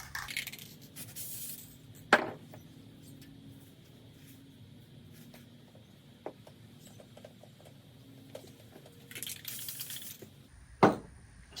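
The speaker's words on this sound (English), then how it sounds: "Should I just be spraying Mod Podge willy-nilly?" Mod Podge glue sprays in two short hissing bursts while DIY Christmas decorations are being made, with scattered light taps and handling noises in a quiet room between them.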